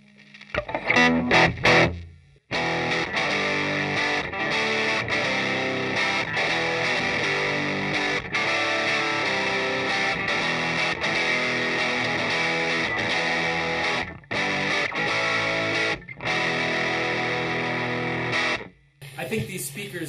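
Electric guitar with the amp gain turned up for crunch, played through a Crate 4x12 cabinet. Dense, sustained distorted chords and riffs run loud and steady, with brief breaks near the start and end.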